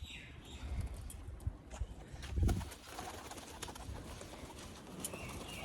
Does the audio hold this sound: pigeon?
yes